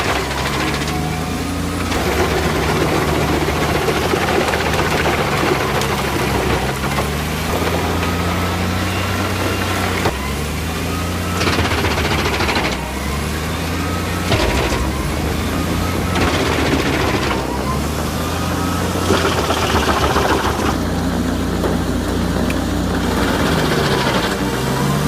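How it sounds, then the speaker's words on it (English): A wood crusher with two crushing shafts grinds wood in a loud, continuous mechanical roar, with a droning engine hum and irregular clattering bursts as pieces break apart. "One machine, two crushing shafts, built to grind any wood, efficient, durable, ready for continuous operation."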